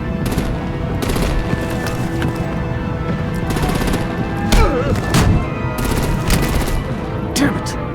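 Gunfire in the video game Batman: The Enemy Within, loud, close bursts of rapid shots and impacts repeating over several seconds amid other action noise.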